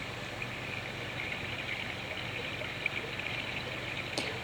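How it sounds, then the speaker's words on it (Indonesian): Waterfall nature sound from an electric portable baby swing's speaker, a steady hissing rush of falling water at constant level, with one brief click near the end. "cuman ini kayaknya air terjun."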